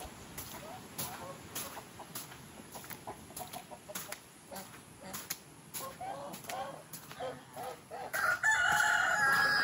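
Two chickens cluck in short, irregular bursts, fairly close, and one crows loudly toward the end, with soft background noise and some speech-like sounds mixed in.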